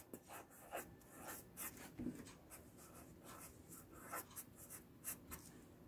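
Chalk or marker strokes on a board during a grade 10 math lesson on secants and tangents of a circle, a series of soft scratchy writing strokes heard close with no talk.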